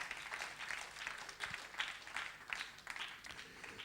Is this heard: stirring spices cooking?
no